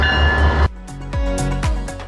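An Amtrak Auto Train pulling out at a station: a loud low rumble that cuts off, then repeated deep clanks and thumps of couplers and cars taking up slack as the train starts moving, close by.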